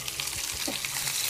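Cubed onion hitting hot oil in a pan already used to fry marinated chicken for Chicken Manchurian, giving a steady close sizzle with a couple of brief stirring scrapes.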